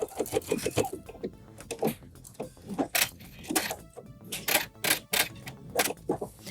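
A sewing machine stitches over a bulky, super thick fabric seam with a hump jumper under the foot, giving bursts of rapid mechanical clatter and thumps that start and stop.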